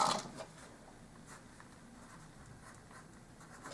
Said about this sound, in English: I'm just making a very, very rough diagram.